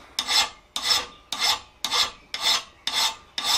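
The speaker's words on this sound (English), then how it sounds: "Okay, so we'll get this filed up here." A file rasps across the bevel of a convex butcher chasing tool in seven steady, evenly spaced strokes, close and loud with no talk.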